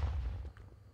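A grenade explodes in the Call of Duty Cold War campaign, a deep low rumbling boom that rolls and fades over about a second, fairly quiet overall.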